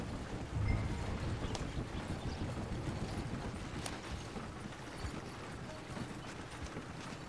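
Horse hooves clip-clop steadily on a road in Red Dead Redemption 2, a soft continuous patter of footfalls under a low rumble of ambient noise, moderately faint and without talk.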